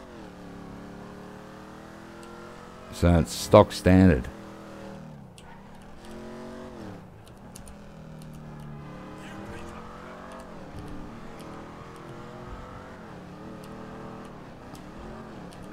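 A stolen, unmodified stock car in GTA 5 cruising around the block, its engine revving up and down through gear changes after a short loud burst, with someone talking over the motor.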